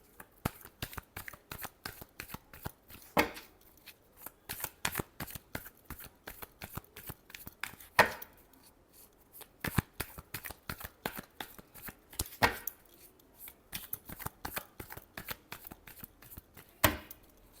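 Tarot cards are shuffled by hand in a close, crisp run of riffling flicks and taps, with occasional sharper snaps as the deck is squared.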